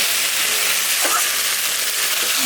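Water hits a pan of frying rohu fish curry with jackfruit and tomato, giving a loud, continuous sizzling hiss with no voices.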